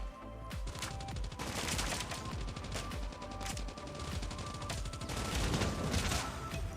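Rapid gunfire from the Call of Duty Mobile video game, with dense bursts of automatic shots firing continuously and loudly throughout, alongside clanking game effects and no talk.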